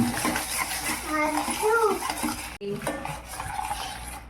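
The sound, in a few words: stirring curry paste in pan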